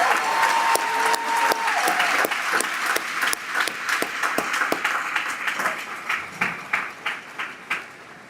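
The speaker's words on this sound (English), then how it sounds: "Can we give our staff a big round of applause?" A large audience at a high school graduation ceremony applauds the school staff, dense clapping that thins toward the end into scattered individual claps.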